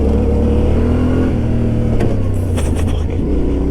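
Yamaha Tenere 700 motorcycle engine revving under load, a loud close drone that climbs and shifts in pitch, with rushing wind noise over it.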